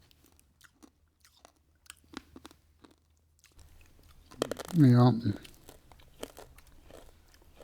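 Someone crunches and chews a peppermint Necco wafer candy, with sharp dry crunches up close and a voice speaking briefly in the middle.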